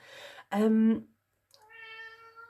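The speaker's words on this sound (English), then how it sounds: "Apologies for my kitty cat." A pet cat meows indoors, close and loud: a few short, bright meows, separated by a brief silence.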